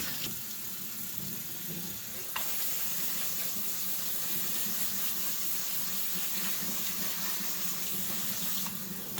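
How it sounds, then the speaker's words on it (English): Water from a sink tap runs steadily over quinoa being rinsed, a continuous close hiss and splash with a brief shift in flow partway through. "we're just gonna bring it over to the sink and we're just gonna give it a real good rinse"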